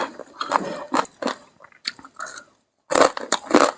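Crispy pork being bitten and chewed up close, with crunchy bursts of mastication spread through the moment and a loud crunching flurry near the end after a short silence.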